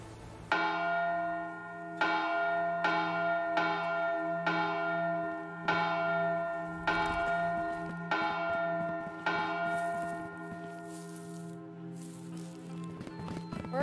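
A bell is rung repeatedly in the video game Eville, nine or so loud resonant strikes at a steady pace, each ringing on with long sustained tones, with faint noise late on.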